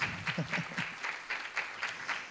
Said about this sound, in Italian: Un applauso, Un applauso fortissimo!